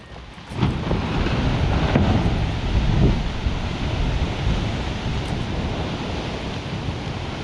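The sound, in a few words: small waves while paddling in Arctic water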